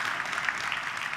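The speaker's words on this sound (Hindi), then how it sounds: "ताली बजाओ यार इनके लिए सबसे।" An audience at a talk on Indian railways claps in a soft, continuous patter of many hands, heard faintly and evenly throughout with no voices over it.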